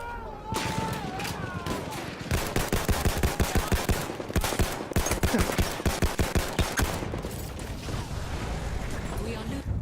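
M1917 Trench Carbine gunfire in the video game Battlefield 1, Turning Tide DLC: a fast run of sharp rifle shots in close succession amid mechanical clatter and other game noise, fairly loud, without talking.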